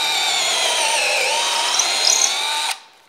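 A cordless power drill set to forward whines steadily as it bores into a block of wood, holding a loud, even pitch for nearly three seconds before cutting off abruptly.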